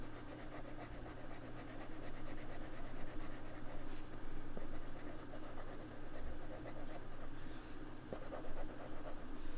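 A wax-based coloured pencil scratches and rubs across somewhat smooth mixed media paper in continuous close strokes, a dry, gritty rasp that keeps going throughout.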